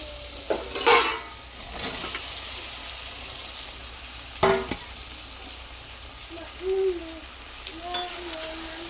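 Fried potatoes are tipped into a pan and stirred, giving a few short scraping and clattering bursts over a soft, continuous sizzle.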